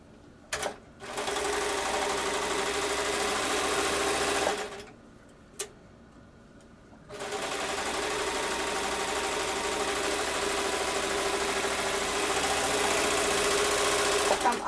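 A Baby Lock Evolution serger stitches a seam through layered dress fabric, its steady mechanical whir running loud and close for several seconds, stopping briefly, then resuming in a long continuous run.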